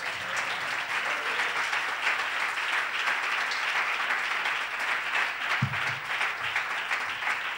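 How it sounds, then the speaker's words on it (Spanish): A church congregation applauds steadily at moderate distance, a dense continuous wash of clapping that holds for several seconds with a faint thump near the end. "Denle un aplauso al Señor"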